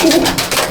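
A brief low coo comes from old line Madrasi pigeons kept in a home loft, a short throaty call heard close up over a faint background hiss.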